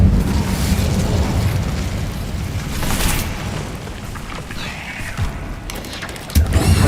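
An Incendio fire spell from Hogwarts Legacy flares with a burst of whooshing flame over rumbling ambience, followed by crackling and a second sharp pop near the end.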